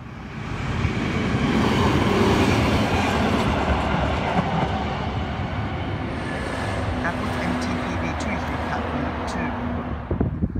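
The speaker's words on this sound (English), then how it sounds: "We have an Oscar arriving onto platform number 2 for a Newcastle interchange service." Sydney Trains Oscar H-set electric train, H52 leading, pulling into a station platform on a Newcastle interchange service: a loud, steady rumble and rail clatter that swells and holds throughout, with a faint voice over the noise.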